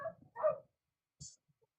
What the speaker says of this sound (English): I can hear the dogs barking.